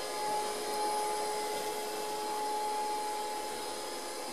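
Cecotec Conga 9090AI robot vacuum cleaner running indoors with its brush spinning, a steady whirring motor drone with a faint tonal whine, continuous and even.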